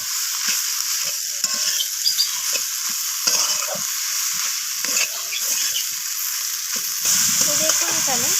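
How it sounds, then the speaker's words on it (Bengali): Note greens stir-fried with vegetables and spices in oil in a pan, a continuous close sizzle with scraping and stirring strokes throughout, no talking over it. "শাকগুলোকে দিয়ে আমি আবারও কষিয়ে নিচ্ছি"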